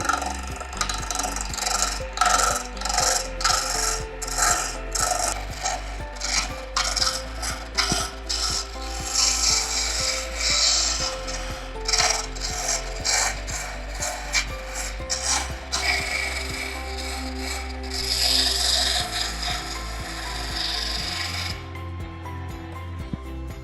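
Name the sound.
wood turning on a lathe with a turning chisel, making a serunai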